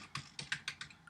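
Computer keyboard typing: about seven quick, crisp keystrokes in an uneven rhythm, close and fairly loud, with no speech.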